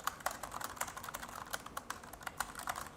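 Rapid, uneven clicking of keys on a computer keyboard, close and fairly quiet, with a steady run of keystrokes and no talking.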